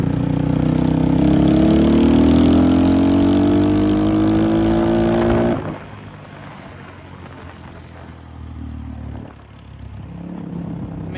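An X-Pro Templar 250 dirt bike fitted with a 271cc big bore kit pulls hard in fifth gear, its engine note climbing steadily and loud before dropping off sharply to a lower, rougher drone.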